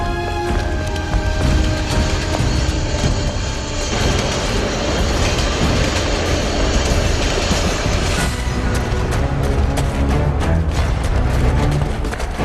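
A subway train rolls along with a continuous loud rumble and rattle, dense metallic clatter building through the ride and sharper clanks near the end.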